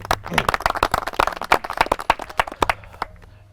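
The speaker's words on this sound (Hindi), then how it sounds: "एक बार ज़ोरदार तालियां इनके लिए।" Audience at a reality show finale claps loudly, sharp separate handclaps in an uneven rapid rhythm for about three seconds, thinning out near the end.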